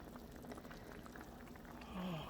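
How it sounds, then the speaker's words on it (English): Beef stroganoff bubbles and simmers in a pot, a quiet, steady low burbling with soft popping that swells slightly near the end, alone without talk. "I see that it is bubbling now"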